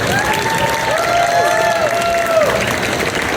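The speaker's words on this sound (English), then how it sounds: "Round of applause, everybody." An audience at a Star Wars: The Clone Wars fan panel claps and cheers in a dense, continuous burst of applause, with a tonal sound weaving through the crowd noise.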